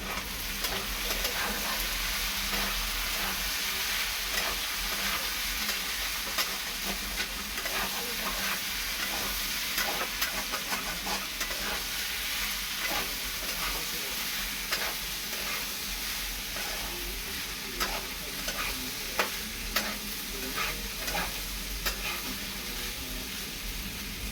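Potatoes for aloo posto sizzle steadily in a pan while a spatula scrapes and stirs them in repeated strokes, close and continuous, with no voices.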